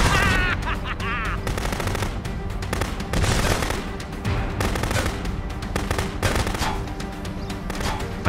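Rapid gunfire rings out while sniping at vehicles in the Contraband Police video game, with dense bursts of shots crackling almost continuously over loud game sound throughout.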